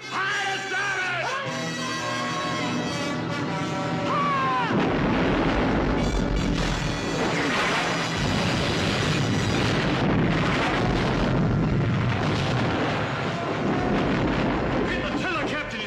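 Ship cannons fire in a naval battle, heavy booming blasts rolling in after a musical opening, loud and dense over several seconds, with shouting voices and orchestral score mixed in.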